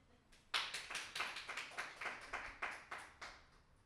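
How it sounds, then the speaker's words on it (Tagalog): A congregation claps together in worship, a fairly quiet run of about a dozen steady, distinct claps that start about half a second in and hold an even rhythm. "Palakpakan muna natin ang Diyos."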